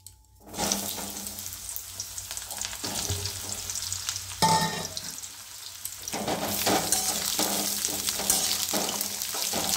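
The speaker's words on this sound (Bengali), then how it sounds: "তাহলে এটা আমি এখন এর সঙ্গে একে ভাজতে দিচ্ছি" Sliced tinda (apple gourd) pieces hit a hot pan and sizzle steadily for a vegetarian sweet corn curry, with scraping stirs and a louder burst partway through after a brief quiet start.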